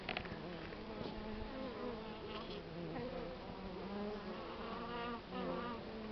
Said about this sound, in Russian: О, пчелы прилетели.